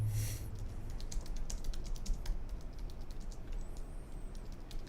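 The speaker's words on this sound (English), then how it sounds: "Are you just typing it in?" Rapid clicking of keys on a computer keyboard, irregular bursts of taps at close range, continuous throughout with no voices over it.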